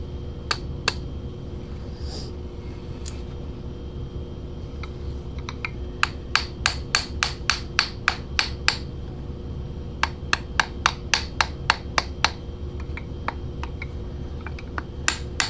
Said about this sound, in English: I gotta hit it with a plastic hammer